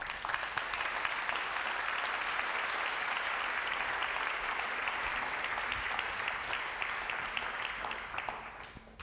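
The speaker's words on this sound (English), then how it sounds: "I think that our panel deserves an applause." A conference audience gives steady, dense applause to a panel after a discussion on a fundamental rights crisis in Europe, sustained for several seconds and tapering slightly at the end, with no talk over it.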